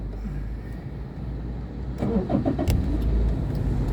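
Cabs heading to Info Park pass along the road, a car engine growing louder from the midpoint as a vehicle draws near and rumbles by over steady traffic noise.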